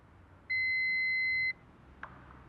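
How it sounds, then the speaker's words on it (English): A single steady electronic beep lasting about a second, clear against quiet background hiss, followed by a faint click. "I messaggi dopo il beep"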